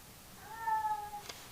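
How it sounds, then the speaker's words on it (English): A cat gives a single drawn-out meowing howl of about a second, fairly close and clear over a quiet background, followed by a faint short click. "There's the cat howling, right?"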